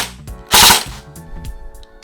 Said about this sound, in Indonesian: Nah, ini bisa full otomatis.